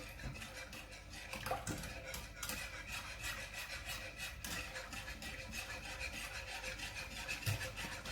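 A spoon stirs melted chocolate, sugar and cream in a pot, making quiet rhythmic scraping strokes against the pot's base that continue steadily throughout.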